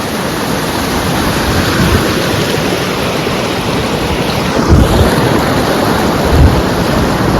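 Loud, rushing water pours and churns without a break into a village swimming pool, a dense steady roar with a few heavier surges.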